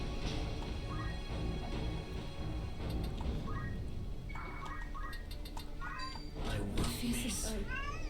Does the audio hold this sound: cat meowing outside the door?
yes